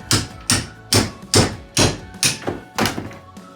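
A hammer striking wood in a steady series of eight solid, loud thunks at about half-second intervals, close and alone with no talking.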